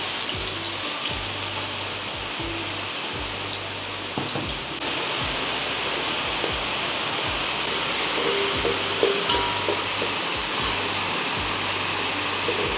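Onion sizzling in hot oil for chicken masala, a steady dense crackling hiss that continues throughout, with faint low thumps of the pan or stove in the background.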